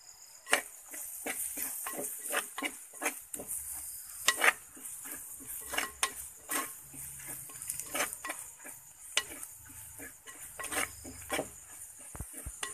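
Masala and onions are sautéed in a pan for fish head curry, with repeated sharp clicks and scrapes of a spatula stirring over a low sizzle, close and fairly quiet, nobody talking.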